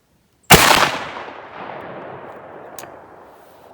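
A single 12 gauge Fury slug fired from a shotgun at an outdoor range, one sharp loud blast followed by a long rolling echo that fades over several seconds, with a faint click afterward.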